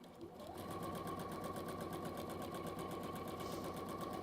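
A sewing machine stitches through layered fabric, starting up after a short pause and then running at a fast, even mechanical chatter with a steady whirring tone, close and continuous.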